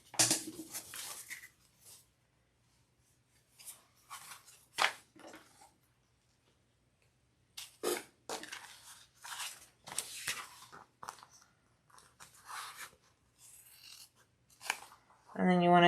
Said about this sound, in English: I'm just going to cut the middle out.